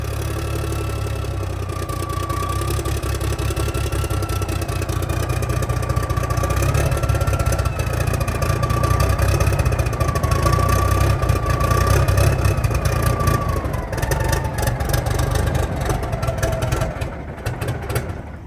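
An old 1987 cabover truck engine idles steadily at its first start in years, a loud, continuous low rumble with a wavering higher tone throughout, close by and alone before easing off at the end.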